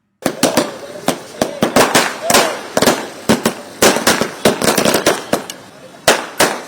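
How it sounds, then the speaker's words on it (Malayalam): Firecrackers bursting in a rapid, irregular string of sharp cracks at a BJP workers' celebration of the Modi government's swearing-in, outside a party state committee office in Kerala. The bangs are loud and close, with some overlapping, and voices sound faintly between them. "സംസ്ഥാന കമ്മിറ്റി ഓഫീസായ മാരാർജി ഭവനിൽ പ്രവർത്തകർ പടക്കം പൊട്ടിച്ചും മധുരം വിതരണം ചെയ്തുമാണ് മോദി സർക്കാരിന്റെ സത്യപ്രതിജ്ഞ ആഘോഷിച്ചത്"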